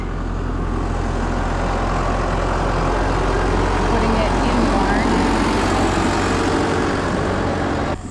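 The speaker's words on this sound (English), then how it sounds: "just bringing the bale with the big tractor" A big farm tractor carrying a bale of bedding to the barn runs with a steady low engine drone close by, while a person talks over it.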